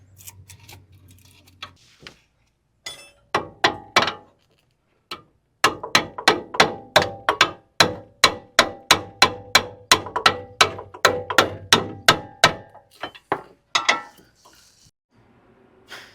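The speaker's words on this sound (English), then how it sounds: "I just kept prying on this camber bolt, and then afterwards I pushed down on here and it finally popped out." Metal clicks and clanks ring out as a pry bar works a stuck camber bolt loose on a 4th-gen Toyota 4Runner suspension, a fast run of sharp taps in bursts with short pauses, close and moderately loud.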